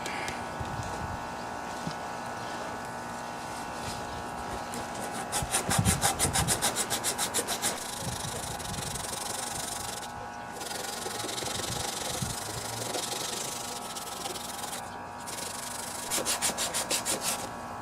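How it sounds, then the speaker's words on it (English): A Craftsman lawn mower part is rubbed by hand with a strip of belt-sander sandpaper, giving rough scratchy strokes in quick rhythmic bursts with short pauses, close up and moderately loud over a faint background hum. "let me get my sandpaper and we'll clean that sucker up"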